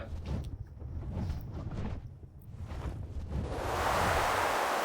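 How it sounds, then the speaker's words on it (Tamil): Rushing wind while flying a griffin in ARK: Ultimate Mobile Edition builds in the last seconds into a steady, loud whoosh after a quieter, softer stretch. "எப்படி போகுது காற்று அப்படியே கிழிச்சிட்டு போகுது."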